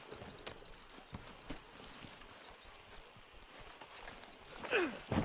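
Horse hooves clip-clopping at a steady walk in the Red Dead Redemption 2 game, soft and mid-distance over an ambient outdoor bed, with a brief louder rustle near the end.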